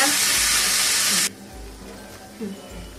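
Tomato and ground masala for chhola hit a hot pan with a loud hiss that lasts about a second, then drops abruptly to a quiet background with a brief murmur of voice.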